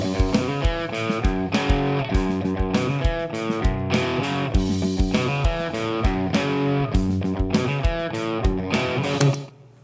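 Customized drum loop for a blues rock song, with some accents removed and others enhanced, playing with a distorted riff: a steady, loud rhythmic groove of kick and snare hits that cuts off abruptly at the end.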